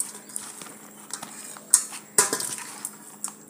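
Metal spoon scrapes and clinks against a bowl while stirring chili powder, heated oil, garlic, dried red chilies, cumin, fenugreek and mustard seeds for a homemade bitter gourd pickle, giving irregular close taps and sharper knocks.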